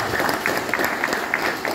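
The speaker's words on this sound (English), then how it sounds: "Let's give them a big applause." Audience applause for palm oil company leaders at an oil palm stakeholders' meeting, a brief, steady patter of many hands clapping at moderate distance, with a hint of crowd murmur.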